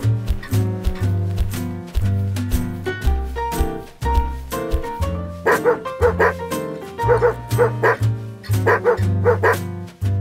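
A street dog barks in repeated bursts, mixing deep woofs with sharp yips and a few whimpers, loud and close over a steady tonal backing.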